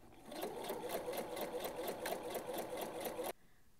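A sewing machine stitches a narrow hem around a steampunk skirt made from Simplicity pattern 2172, with a steady, rapid mechanical whir and needle clatter that stops abruptly near the end.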